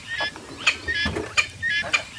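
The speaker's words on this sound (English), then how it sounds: "The name Dik Dik comes from a call that the females make when they're alarmed." Repeated short, sharp whistling alarm calls from a female dik-dik antelope, about five bursts spaced irregularly over two seconds, fairly close and alone without talk.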